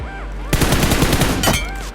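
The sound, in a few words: gunfire in a video game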